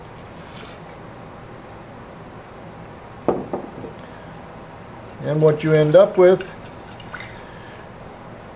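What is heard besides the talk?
pouring warm water onto dehydrated sourdough starter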